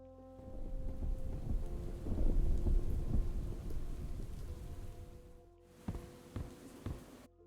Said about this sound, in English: It started raining outside again.